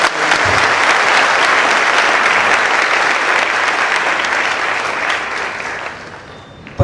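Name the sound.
audience applause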